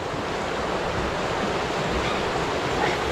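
A river flows steadily past a riverside in the countryside, giving a continuous broadband rush of water that stays even and fairly loud throughout, with no voices.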